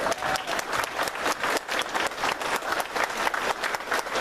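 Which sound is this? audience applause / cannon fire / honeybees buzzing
audience applause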